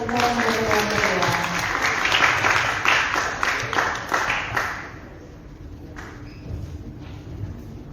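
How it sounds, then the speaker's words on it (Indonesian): An audience at a youth event in Bali applauds the moderators, a dense burst of clapping that holds steady, then thins and fades out after about five seconds into quiet room noise with scattered claps. "Sekali lagi beri tepuk tangan yang meriah untuk para moderator yang kedua."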